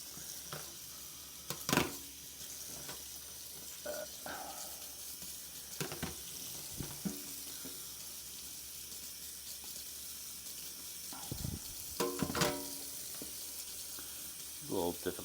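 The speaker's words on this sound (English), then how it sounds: "we'll rinse it under the sink here." A Dreame X40 Ultra robot vacuum part rinsed under a sink tap: faint running water with scattered knocks and splashes, a few louder bursts near the start and toward the end, and no talk.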